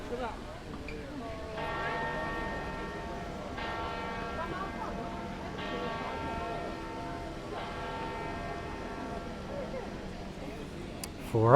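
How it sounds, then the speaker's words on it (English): Church bells at the Vatican ring out for four o'clock, several rich, sustained strokes spaced evenly about two seconds apart, each ringing on and overlapping, heard from a distance under ambient city noise. "So now we're going to get the 4 o'clock bells."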